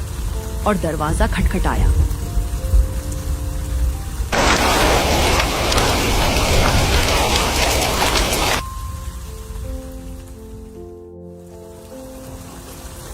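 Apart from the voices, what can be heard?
heavy rain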